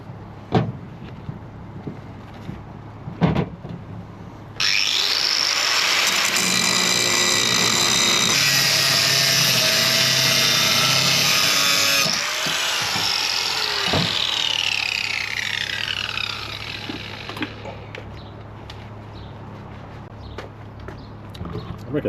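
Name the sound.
power tool cutting BMW X5 K&N air intake pipe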